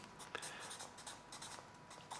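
Pen writing a short form on paper during a maths working, a faint, close scratchy scribbling in quick strokes, very quiet throughout.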